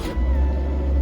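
Maruti Suzuki Eeco engine turning over and settling into a steady low idle right away, loud and close with a continuous rumble and no voices.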